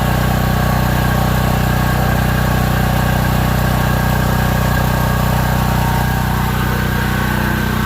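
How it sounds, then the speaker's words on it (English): A Harbor Freight 195 welder generator's engine idles close by, loud and steady with an unbroken, even drone. "Now I think it's going to turn itself down a little bit where it seems like it's barely idling."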